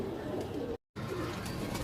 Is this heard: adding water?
no